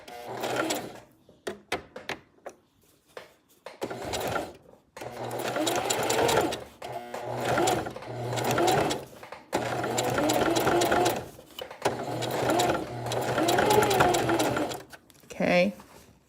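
A sewing machine stitches a centered zipper in bursts of steady mechanical whirring, pausing between runs, with a voice talking over and between the stitching.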